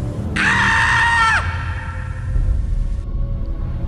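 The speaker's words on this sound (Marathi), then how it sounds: "आपले डोळे बंद केले आणि जोरात किंचाळला" A man lets out a loud, drawn-out scream of terror as a horror sound effect, a single sustained cry lasting about a second before trailing into a hollow, echoing tail.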